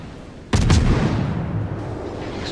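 A warship's naval guns fire in the World of Warships video game, one loud booming salvo with rumbling aftershock and a long decaying tail, heard alone.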